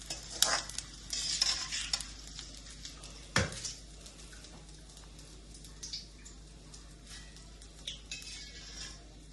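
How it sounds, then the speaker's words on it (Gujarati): Oil sizzles steadily in a pan while edible gum and then dry fruits such as almonds are fried, a utensil stirring and scraping, with occasional clinks of metal. "હવે આની અંદર જ આપણે પેલા ડ્રાય ફ્રૂટ તળી લઈશું"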